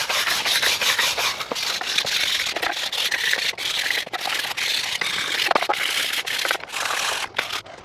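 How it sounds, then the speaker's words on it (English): Char is scraped off small pieces of wood for a mug cubby, a dense, steady rasping rub close at hand with short pauses between strokes and no talk. "that's scraping the char off of everything"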